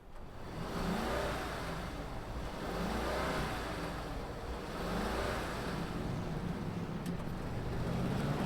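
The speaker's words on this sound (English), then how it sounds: "Let's fire this up and see it roll." A 2023 Mercedes-Benz S 580 sedan running and pulling away, a steady low engine hum with mild rises in revs, heard fairly close and continuous without talk.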